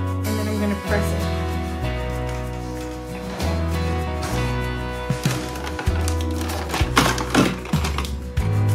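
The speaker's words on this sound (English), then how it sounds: "I've pinned some small little pleats in the front of the shirt here, so I'm going to sew those in" A sewing machine stitches pinned pleats into the front of a shirt in short stop-start bursts, each run a close, rapid mechanical whirr, several separated by brief pauses.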